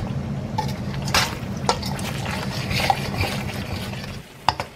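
Coconut milk sauce for Lao mee ka tee is stirred steadily in a pot, the spoon scraping the bottom with soft liquid swishes and a few sharper clinks, close and fairly quiet.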